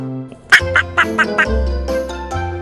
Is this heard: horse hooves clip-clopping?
no